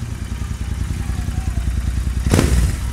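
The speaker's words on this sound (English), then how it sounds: "it sounds like a monster compared to the stock exhaust" A Royal Enfield Interceptor 650 with a Powerage short slip-on exhaust rumbles steadily with a deep, throbbing note, then revs up sharply near the end, loud and close.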